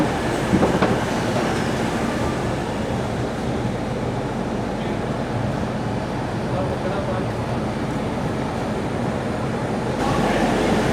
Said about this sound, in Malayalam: അപ്പോൾ മലബാർ എക്സ്പ്രസ്സിനെ കൊണ്ട് മംഗലാപുരത്തേക്ക് പോയ ലോക്കോ ആണ് ഇന്നിപ്പോൾ തിരിച്ച് മാംഗ്ലൂർ ട്രിവാൻഡ്രം എക്സ്പ്രസ്സിനെ കൊണ്ട് വരുന്നത്.